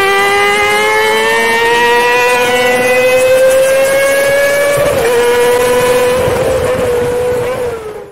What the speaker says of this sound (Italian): emozioni da 4 cilindri sportivo racchiuse in 50 cavalli con l'airbox in pressione su un motore di piccola cilindrata